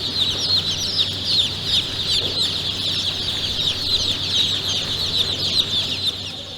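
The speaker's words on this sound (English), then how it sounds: "Fukushima Enya incubates chicks to sell to poultry farmers." A crowd of chicks at a Fukushima hatchery that incubates them for poultry farmers, dozens of high, rapid peeps overlapping in a constant close chorus with no voices.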